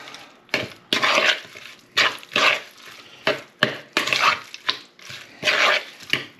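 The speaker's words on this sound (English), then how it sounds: "Give it a good mix up, and you can see it turning a nice shade of red" Chicken tikka masala being stirred in a pan with Kashmiri chili powder, a run of close, rhythmic scraping and sloshing strokes separated by short pauses, with no talking.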